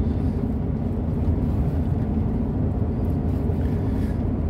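A steady, unbroken rumble of a car driving along a village street, road and engine noise holding at an even level with no voices.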